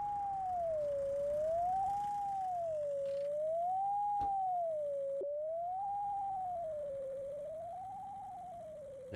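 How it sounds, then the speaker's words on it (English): A wailing siren in the video game The Long Drive rises and falls in slow, even sweeps, steady and fairly loud, with a few faint clicks and thumps underneath. "Drive me absolutely insane, that bloody siren."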